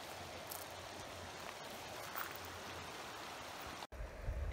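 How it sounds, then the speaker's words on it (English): A creek beside a forest campsite flows steadily, its soft, even wash of water running faintly and continuously in the background. "It is so nice waking up to the sound of the water."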